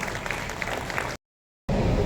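Applause from the audience at a Kerala Kala Samithi Onam celebration, a dense burst of hand clapping that cuts out abruptly into silence for a moment before resuming.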